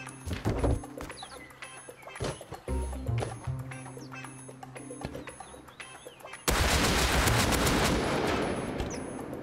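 Rapid gunfire in the survival video game Rust, a burst of sharp cracks early on, then a loud steady roar of noise taking over for the last few seconds.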